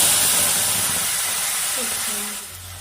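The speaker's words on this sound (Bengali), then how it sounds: "তেলের মধ্যে হলুদ গুঁড়ো লবণ টমেটো কাটা" A loud, steady hiss of turmeric, salt and chopped tomato hitting hot oil fills the sound, fading slightly toward the end, with faint speech in the background.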